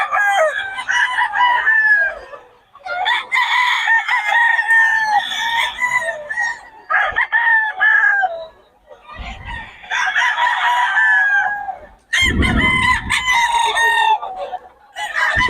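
Gamecock stags crow repeatedly at a farm, several loud, close, drawn-out cock-a-doodle-doos following one another with brief gaps, mixed with clucking and some background bumps.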